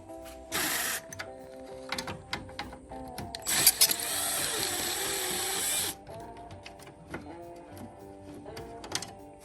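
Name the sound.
undoing 11mm bolts on a Ford F350 front end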